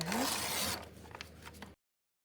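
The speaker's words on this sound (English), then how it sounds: "Just rip across there." Paper is ripped across during envelope journal crafting: one loud, fast tear at the start, then a few fainter rustles and scrapes before it falls silent.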